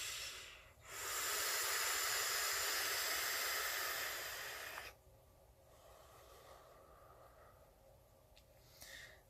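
A long inhale on a Digiflavor Mesh Pro tank with a kanthal mesh coil at 50 watts and airflow halfway open, a loud steady airy hiss lasting about four seconds, followed by a softer breathy exhale.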